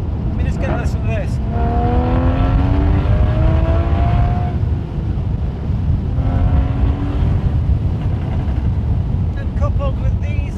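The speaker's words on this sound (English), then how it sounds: "it's just got an incredible crescendo with this exhaust" A Porsche Boxster Spyder's exhaust rises and falls through gear changes while driving in the Scottish Highlands, with rising engine tones under heavy wind rush and a voice talking over parts of it.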